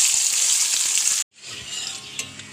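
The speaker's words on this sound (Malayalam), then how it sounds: "എണ്ണയിൽ തന്നെ ചുവന്നുള്ളി വറുത്തെടുക്കണം." Shallots sizzle steadily in hot oil for a Kerala neem-leaf chutney, a loud, dense hiss that cuts out abruptly for a moment and then resumes slightly softer with faint clinks.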